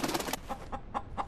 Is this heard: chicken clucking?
yes